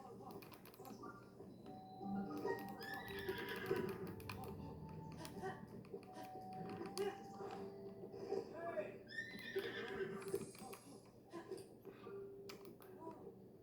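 Horse whinnying in the video game Zelda Breath of the Wild, with a couple of high neighs standing out among game ambience and clicking sounds while a person talks over them.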